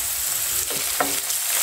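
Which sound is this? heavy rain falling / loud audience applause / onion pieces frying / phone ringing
onion pieces frying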